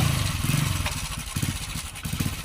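A motorcycle engine running nearby, a loud, rough low chugging with a steady pulsing rhythm throughout.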